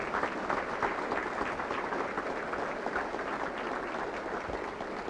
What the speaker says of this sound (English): Another fine round of applause for those wonderful officers.